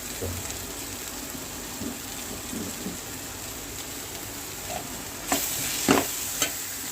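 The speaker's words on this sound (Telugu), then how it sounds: "చూసారు కదా, ఉల్లిపాయలు టమాటో ఫ్రై అవుతుంది." Onions and tomatoes frying in a pan, a quiet continuous sizzle with a few louder clinks or stirring knocks near the end, no speech.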